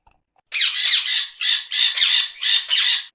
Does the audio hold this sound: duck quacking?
yes